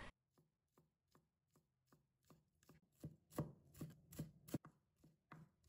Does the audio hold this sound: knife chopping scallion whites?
yes